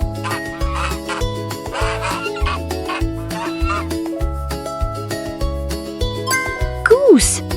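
In an animal-sound guessing game, a goose call rings out near the end as a loud, wavering honk over a bouncy, steady music bed.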